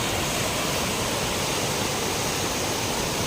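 Three waterfalls one after another produce a constant, dense roar of falling water, broad and even with no pauses, filling the scene from close range.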